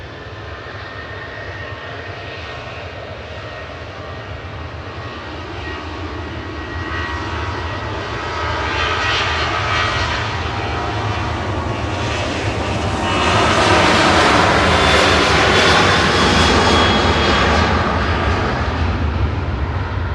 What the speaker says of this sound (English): So KLM's next to go, heading back to Amsterdam. This is PHBXW, a 737-800